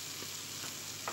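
Purslane and eggs sizzle in a frying pan while being stirred, a steady soft crackling hiss with a couple of faint scraping strokes, quiet and close with no voice.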